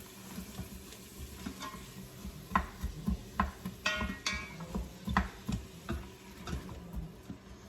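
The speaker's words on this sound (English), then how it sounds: "I'm gonna add in my onions. And I'm gonna add in my celery. And I'm just gonna saute those until they are" Onions and celery sautéing in an Instant Pot, with a steady soft sizzle and repeated close stirring scrapes and clicks against the pot.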